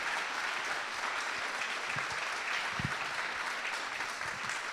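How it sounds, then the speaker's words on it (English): Steady, dense applause from an audience at a wrestling promotion's yearly awards show, loud and continuous with a few louder claps and faint low voices mixed in. "Everybody give yourselves a round of applause because you look amazing"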